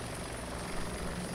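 Helicopter rotor and engine drone in the video game Arma 2, a steady, continuous near whir with no voices, constant in level throughout.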